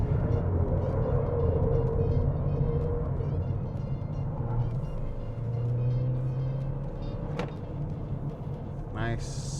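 A Volvo S70 MC-1 driven into a corner, engine droning loud and close with rising and falling rumble, a brief squeal near the end, while someone talks over it.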